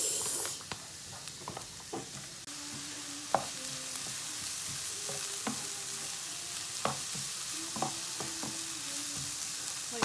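Courgette and shrimp sizzle steadily in a frying pan, a continuous broad hiss broken by occasional clinks and scrapes of stirring, close and even throughout with no talking.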